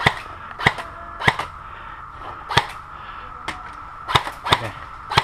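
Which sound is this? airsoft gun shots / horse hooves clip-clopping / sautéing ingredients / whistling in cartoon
airsoft gun shots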